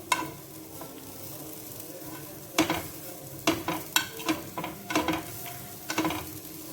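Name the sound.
stirring jaggery until it melts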